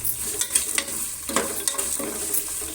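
Curry leaves and dried red chillies sautéed in a pan for fenugreek rice, with repeated spatula scrapes and stirring knocks over a constant bright sizzle, close up and with no voices.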